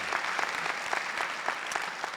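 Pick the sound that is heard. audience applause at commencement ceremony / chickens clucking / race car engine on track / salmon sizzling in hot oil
audience applause at commencement ceremony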